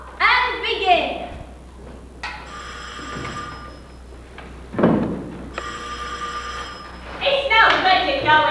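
A telephone rings on stage during a 1996 high school cafe cabaret performance, two long electric bell rings separated by a pause, with people talking and some clatter between them.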